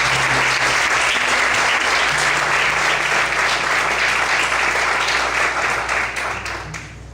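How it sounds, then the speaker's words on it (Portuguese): Loud, sustained applause from a church congregation praising God fills the whole stretch, dense and steady before easing slightly at the end, with a low hum beneath. "Você pode desocupar sua mão e aplaudir o Senhor bem forte"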